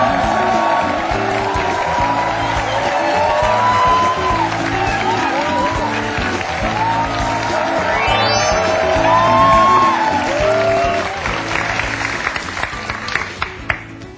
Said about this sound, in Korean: 여러분들 큰 박수로 모시겠습니다